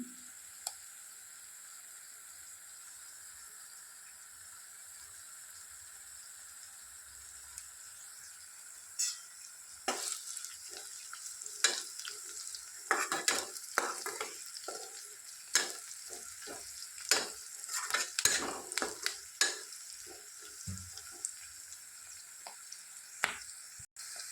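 Curry leaves and turmeric fry in oil with onions in a pan for a Telangana bottle gourd curry. A steady sizzle starts quiet, then loud crackles and spatters burst irregularly through the second half.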